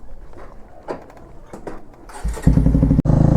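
A quiet stretch gives way to a KTM Duke 390 and a Bajaj Pulsar 125, both fitted with loud exhausts, firing up and pulling off. A close, heavy engine rumble rises sharply and holds loud to the end.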